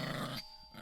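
A dog gives a brief low growl, close and faint, lasting under half a second before fading to near silence.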